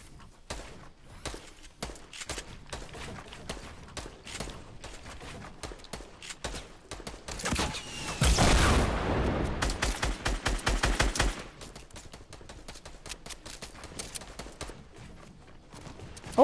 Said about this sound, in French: Ok, ça nous shoot de plein de balles.